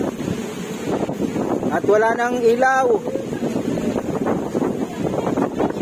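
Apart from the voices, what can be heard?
strong typhoon wind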